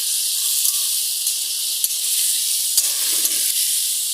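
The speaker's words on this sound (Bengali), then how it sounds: "এখন ভালো করে এটাকে কষিয়ে নেব।" Chopped tomatoes with salt and turmeric sauté in a hot pan, giving a loud, steady steamy hiss with a few faint ticks and one brief stirring rustle near the end.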